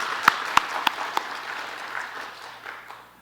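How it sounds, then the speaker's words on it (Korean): Church congregation claps together in a sanctuary, a burst of applause with a few sharp hand strikes at the start, then steady clapping that gradually fades out, no talking. "박수 한번 쳐주세요."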